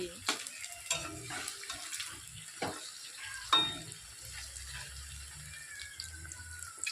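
Soft, crackling sizzle of cauliflower pakoras frying in oil, with occasional clinks and scrapes of a utensil; quiet and close.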